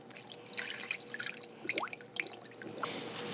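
Tap water runs and splashes into a bowl that will hold chicken for brining, a soft trickling and dripping with small bubbly gurgles, close and fairly quiet.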